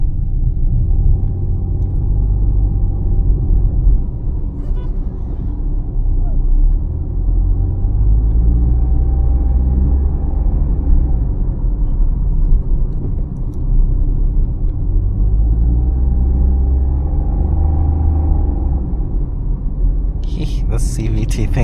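A 2025 Suzuki Swift GLX with a 1.2 litre engine and CVT drives along, heard from inside as a loud, steady low rumble of engine and road noise with gentle swells.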